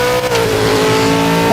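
Race car engine in a racing sim, PMR, holding a steady high drone with a brief dip as it downshifts, loud and continuous.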